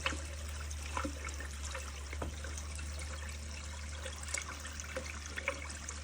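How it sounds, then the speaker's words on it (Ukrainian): EPB TEKK HAUS water pump running at full output with water flowing from a tap, a steady low hum under a constant splashing rush, close and even. "Насос працює з максимальною продуктивністю та споживає біля 90 Вт."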